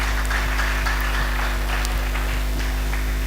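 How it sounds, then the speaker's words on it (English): An audience at a university inaugural lecture applauds the lecturer, a continuous wash of clapping heard through a strong low electrical hum and buzz. "let's give him a round of applause for that"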